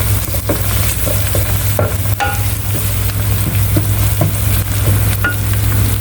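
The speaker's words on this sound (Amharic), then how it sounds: "ነጭ ሽንኩርት የተፈጨ ቃሪያ እንጨምራለን፣ እናቁላላለን" Garlic and ground chili sautéing in a pan while being stirred, a steady close sizzle with scraping stir strokes throughout, no talk.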